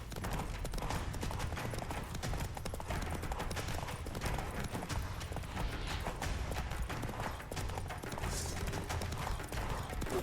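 Roach the horse galloping in The Witcher 3, a fast continuous run of hoofbeats with a steady rhythm, loud and close over game ambience and music.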